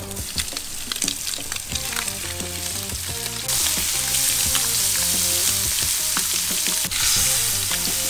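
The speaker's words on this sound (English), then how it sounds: "Now you take your seasoned side of the fish far away from your camera woman and go straight into the oil like that" Seasoned canal-caught fish drops into hot oil, the frying swelling into a loud, dense sizzle partway through, with steady crackle and occasional pops under a background of rhythmic music.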